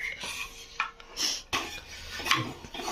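Dishes, pots and cutlery clatter and scrape in a home kitchen while polis are cooked on a thick tawa for a festival meal, with several sharp clinks standing out over a low background.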